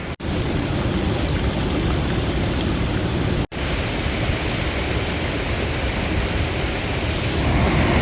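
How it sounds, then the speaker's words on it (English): Waterfall on a river in the Ogwen Valley, swollen after a morning of rain: a loud, dense, unbroken roar of rushing water filling the whole clip, with two brief dropouts. "that's the waterfall we're looking at"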